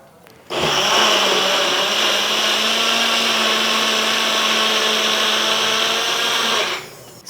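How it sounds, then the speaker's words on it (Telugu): A kitchen mixer grinder blends washed spinach leaves, starting abruptly and holding a loud, steady whirring motor drone for about six seconds before cutting off; no one speaks. "ఈ పాలకూరని మిక్సీలో పట్టేద్దాం"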